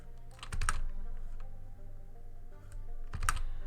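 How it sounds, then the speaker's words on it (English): A noisy computer keyboard clatters in two quick bursts of typing, each a cluster of loud, close key strikes, separated by a quieter stretch with low background hum. "This keyboard's too noisy. You can hear it."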